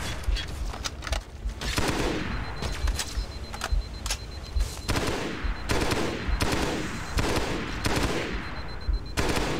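Rapid automatic gunfire in the Halo SPV3 video game, loud, close and sustained in repeated bursts with brief gaps between them.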